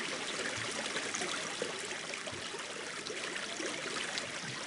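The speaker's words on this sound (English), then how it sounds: "Hear the water." Flowing water in the video game Terraria makes a steady, dense rushing and trickling wash, continuous and fairly loud throughout, with no talk over it.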